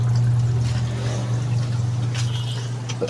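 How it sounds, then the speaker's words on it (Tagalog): Water trickling steadily during laundry washing, a continuous close pour and dribble over a constant low mechanical hum. "Tuloy-tuloy naman ang tulo niya oh"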